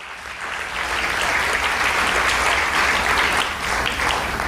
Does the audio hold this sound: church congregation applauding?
yes